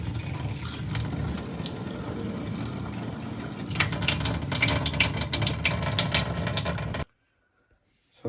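Water rushing backwards through a removed tap part as a plumber flushes out a slow household tap: a loud, steady gushing hiss close by, lasting about seven seconds before cutting off abruptly to silence.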